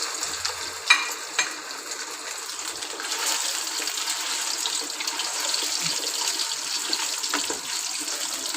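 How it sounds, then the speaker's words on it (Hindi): Koftas are dropped into hot ghee and fry with a continuous, fairly quiet hiss and sizzle, broken by a few soft clinks and bumps near the start. "ये घी गर्म हो चुका है। अब ये जो मैंने ये कोफ्ते बनाए थे ये घी के अंदर"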